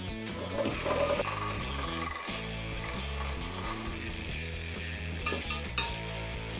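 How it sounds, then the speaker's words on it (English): A whisk clinks and scrapes steadily against a bowl as sugar is beaten into chocolate chip muffin batter, a close, busy rhythm of metal taps, with no talking. "sugar, whisk again"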